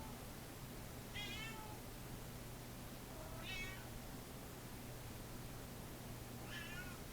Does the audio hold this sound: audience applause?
no